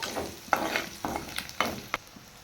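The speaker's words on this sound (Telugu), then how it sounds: "ఇలా ఇవి వేపుకోవాలి కాసేపు" Spices with ginger garlic paste frying in a pan for biryani, a close soft sizzle broken by a few distinct stirring scrapes in an uneven rhythm.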